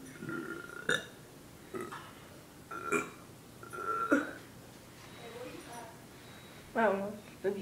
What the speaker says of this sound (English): Oh, that burp.